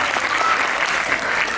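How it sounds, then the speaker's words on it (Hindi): An audience bursts into enthusiastic applause, a dense, loud patter of many hands clapping at once, continuous throughout. "जोरदार तालियां"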